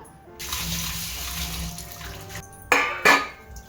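Tap water runs steadily while raw chicken with turmeric and salt is washed in a kitchen sink, with two sharp splashing bursts near the end; close and moderately loud, no talking.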